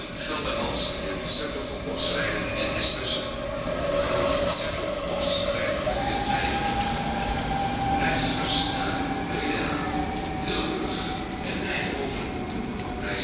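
A VIRM-4 double-deck train stands at Schiphol Airport station as its doors close, a string of warning beeps and a rising mechanical hum, under a station announcement and platform murmur.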